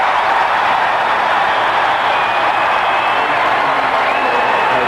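A packed basketball arena crowd roaring and cheering at a 1986 NCAA Midwest Regional Final between Kansas and NC State, a loud, sustained wash of noise that holds steady throughout.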